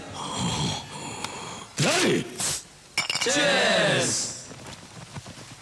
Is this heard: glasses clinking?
yes